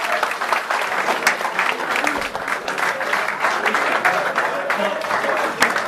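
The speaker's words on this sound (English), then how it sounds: "We'll give her a round of applause for what he's achieved at this club this year." A crowd at a club seniors' awards presentation applauds the first team manager, steady dense clapping filling the room throughout with a few sharper claps standing out.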